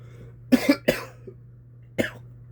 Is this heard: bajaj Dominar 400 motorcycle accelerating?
no